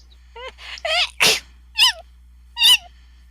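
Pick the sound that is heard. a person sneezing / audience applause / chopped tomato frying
a person sneezing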